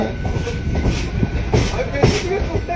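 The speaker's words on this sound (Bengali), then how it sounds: "প্ল্যাটফর্ম ছেড়ে ট্রেন রওনা দিয়ে দিল" A local train pulls out of a station platform between Bargachhia and Patihal at night, with rhythmic clickety-clack of wheels over rail joints, steady and fairly close, with a low rumble underneath.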